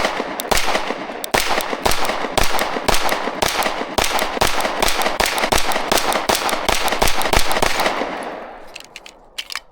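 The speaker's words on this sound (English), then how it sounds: "Shoot at a decent pace here." A Kimber 2K11 Pro pistol fired outdoors in snow, a long rapid string of sharp, loud shots at a steady quick pace through two magazines, the reports tailing off near the end.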